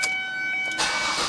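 Car engine cranking briefly and then catching, a bright whirring starter followed by a louder, rougher burst as the engine fires, heard close up.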